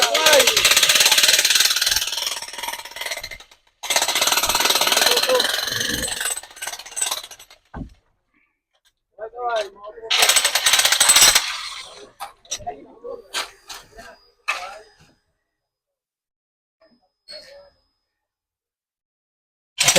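A jackhammer pounds in loud, rough bursts nearby at a house build site in Subic Bay, separated by quieter gaps, with voices heard in between.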